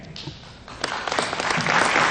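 Applause rising from a crowd at a new-citizen oath of allegiance ceremony as Colombia is called, starting sparse and swelling into fuller clapping within two seconds.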